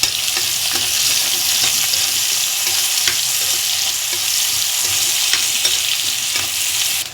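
Finely chopped onion sizzling in hot oil in a pan for suji upma, with steady frying crackle and occasional scrapes and clinks as it is stirred, close and continuous with no voices.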